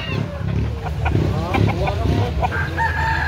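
Roosters at a gamefowl farm in Cebu, with crowing and clucking scattered among background voices and someone talking throughout.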